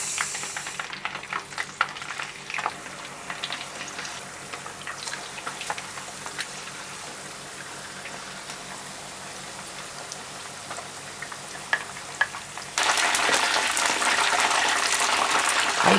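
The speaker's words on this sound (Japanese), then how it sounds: "揚げていきます。" Chicken deep-frying in hot oil for Korean yangnyeom chicken gives a steady, rain-like sizzle that suddenly surges into a much louder, fuller hiss near the end, with no talking.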